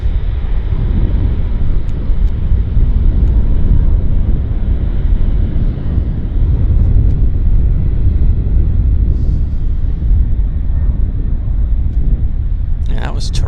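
An airliner lands at Vancouver International Airport (YVR) with a steady, loud low roar and rumble mixed with wind buffeting on the microphone. People can be heard talking over it.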